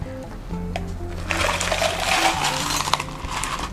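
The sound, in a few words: pouring soda water into a glass of rose lemonade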